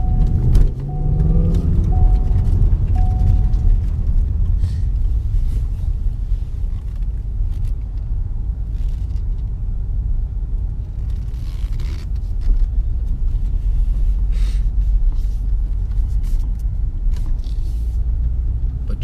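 A manual-transmission car pulls away in second gear with a steady, loud low engine rumble and road noise heard from inside the cabin, continuous throughout, with no talking.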